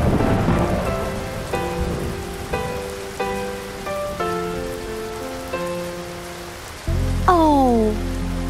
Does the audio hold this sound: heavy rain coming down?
yes